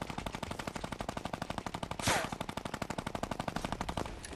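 A Fortnite minigun fires in a fast, unbroken stream of rapid shots that stays loud and steady throughout, with a brief whooshing burst cutting through partway.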